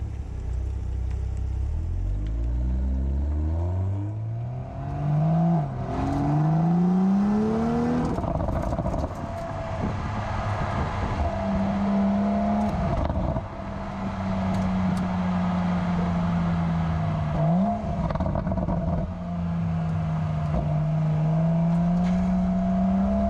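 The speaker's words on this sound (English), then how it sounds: "there's also a lot of crackles and pops and more aggression on the shifts" A 2021 BMW X3 M40i compact performance crossover revs hard through repeated upshifts, its engine note climbing and dropping in loud, steady sweeps with occasional crackles, heard close and continuous with no talk.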